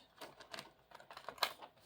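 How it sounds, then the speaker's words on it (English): Tarot cards shuffled by hand, faint quick papery clicks and riffles in a loose irregular patter, very quiet and close with no talking. "we'll shuffle again just to make sure the energy is moving just a little bit, not too much."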